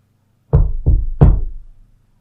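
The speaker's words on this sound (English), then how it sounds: "And you hear a knock on your door." Three heavy knocks land on a door, close and loud with a deep thud to each, the second slightly quieter, followed by silence.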